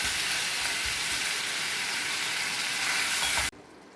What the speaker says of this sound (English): You have to keep on stirring till all the tomatoes get mushy.